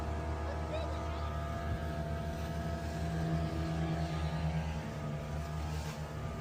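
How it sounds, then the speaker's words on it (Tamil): An 8-seater speedboat engine at the ECR boat house drones steadily and loudly throughout, a continuous low motor hum with water and wind noise and no clear speech over it. "ஒரு 8 சீட்டர் ஸ்பீட் போட் தான் எடுத்திருந்தோம்."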